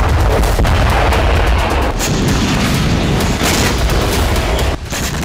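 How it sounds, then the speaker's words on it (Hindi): A massive explosive demolition brings down the Al Shifa hospital building in Gaza, a loud, continuous roaring blast and rumble that fills the whole stretch before dropping off abruptly at the end. "जोरदार धमाके के साथ गाजा के सबसे बड़े अस्पताल अल शिफा को उड़ाया गया"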